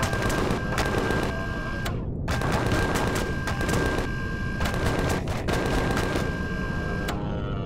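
Rapid automatic gunfire from the space survival game Empyrion Galactic Survival, continuous dense bursts with a few brief pauses, loud and close, with a steady electronic tone underneath.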